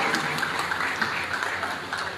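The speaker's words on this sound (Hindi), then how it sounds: "इसके लिए भी आप ताली बजाकर अपना समर्थन दें।" Applause from an audience at a traders' association founding meeting in Nilokheri, a steady sustained patter of many hands clapping, fairly loud and continuous.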